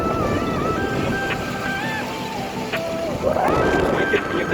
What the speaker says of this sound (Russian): Ой, какой ветер.